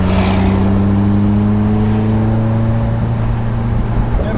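Car engine with a GTX-3576r gen2 turbo, GSC S2 cams, GSC springs and retainers, on 93 octane, roars loud and steady close by, its low drone climbing in pitch as the turbo spools, with no talk over it.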